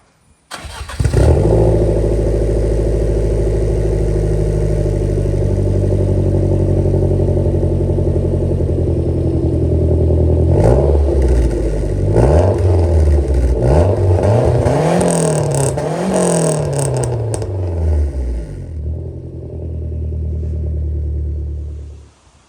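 A Lancia Delta HF Turbo HPE with a custom exhaust starts and idles with a loud, deep rumble, then revs up and down in repeated swells before settling back and cutting off, close and unaccompanied by talk.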